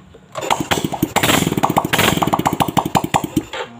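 A Yamaha Vega R motorcycle is kick-started; the engine catches right away and runs in a loud, close, rapid rhythmic putter for several seconds, with no talking.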